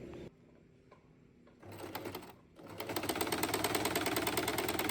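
A sewing machine stitches saree fabric into a dress, starting in short stop-and-go spurts, then settling into a fast, steady whirring run of rapid needle strokes, close and loud.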